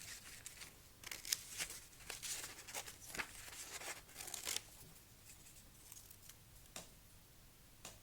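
Scissors snip out a paper mouth for stop-frame animation, a close run of crisp cuts and crinkly paper rustles in irregular bursts that thin out toward the end, with no one speaking.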